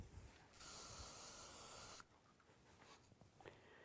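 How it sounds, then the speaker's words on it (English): A hairspray can spraying onto hair styled in a messy ponytail, one steady, close hiss lasting about a second and a half before cutting off into quiet handling sounds. "Taking a little spray."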